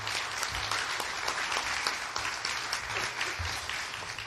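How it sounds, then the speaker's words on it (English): Audience at a county Republican candidate forum applauds the party chair candidates, a continuous full round of clapping at steady loudness with some low room rumble underneath and no voices. "another round of applause for these candidates"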